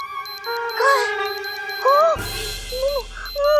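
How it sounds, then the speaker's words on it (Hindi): An electronic warning alarm sounds in loud, close bursts of beeping tones with warbling pitch sweeps, pausing briefly between them. "ये पिचको की आवाज नहीं है, ये एक चेतावनी यंत्र की आवाज है"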